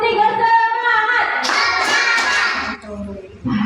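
Children in a class clap together in a rhythmic counting clap game, bright close hand claps mixed with kids' voices chanting along.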